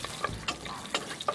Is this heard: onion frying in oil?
yes